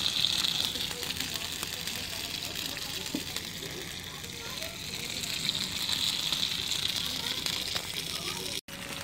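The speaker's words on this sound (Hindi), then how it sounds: "ये अहमद जो है इसको थोड़ा सी इसकी साइड सेट कर रहे हैं ताकि अच्छी तरह जो है ये फ्राई हो जाए" Chicken pieces fry steadily in a pan, a continuous hissing sizzle at moderate level throughout, with a brief dropout near the end.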